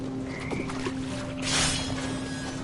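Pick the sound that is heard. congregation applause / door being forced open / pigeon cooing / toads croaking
toads croaking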